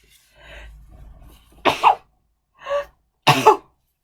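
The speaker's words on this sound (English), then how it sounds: "Oh, excuse me, I'm going to sneeze." Two sharp pollen-triggered sneezes burst out after a few soft breaths and sniffs, close and loud, with a short pause between them.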